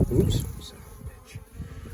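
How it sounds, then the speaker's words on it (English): Honey bees buzzing faintly around a hive during a one-week inspection, a soft high drone with brief passing buzzes, under a few low handling noises and some speech. "just a few bees on here"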